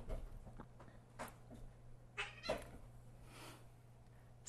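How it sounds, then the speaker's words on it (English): A feral cat lets out a few short, faint meows and wails, scattered irregularly over a quiet indoor background hum. "Feral cat problems."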